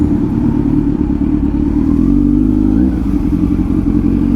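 A Kawasaki Z900 motorcycle engine runs steadily while being ridden, a loud continuous low drone with a slight change in pitch partway through and no talking.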